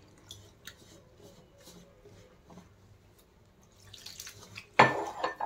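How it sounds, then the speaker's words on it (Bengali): Water poured into atta and semolina dough seasoned with salt and sugar for khasta kachori: faint kitchen clinks, then a sudden loud, close splashing pour near the end. "এখন আমি দিয়ে দিচ্ছি জল।"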